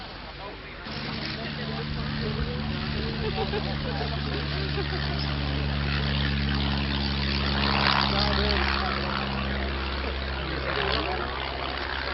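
Avro 504K biplane's rotary engine at an Old Warden air display, a steady droning hum with strong low harmonic bands holding throughout, loud and continuous, with a voice talking over it.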